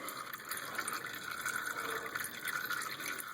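Used oil drains from an old oil filter off a Chevy Impala, a faint, steady trickle with light dripping close by and no talking.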